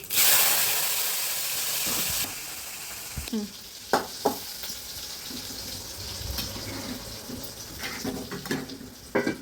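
Mustard seeds, cumin and a little onion frying in hot oil for an okra stir-fry, a steady close sizzle with a few sharp crackles and stirring knocks partway through.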